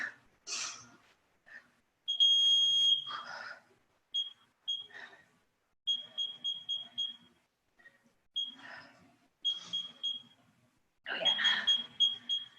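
A workout interval timer during a live dumbbell metabolic session gives out bursts of high, steady electronic beeps in short rapid runs, separated by gaps with scattered voices and movement in a quiet room.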